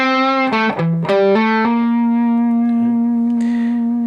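Distorted electric guitar plays a quick hammer-on lick built on the half-whole diminished scale, several fast notes changing pitch before settling into one long sustained ringing note, loud and alone.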